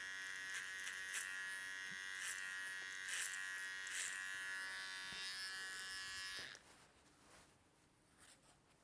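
Electric hair trimmer cutting a fade, a close, steady buzz with small scraping bursts as the blades pass through hair, cutting off abruptly near the end and leaving quiet room tone.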